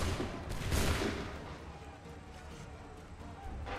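Gunfire volley in Assassin's Creed III, a dense burst of massed musket shots peaking early then rolling into sustained crackling battle noise, with some voices mixed in.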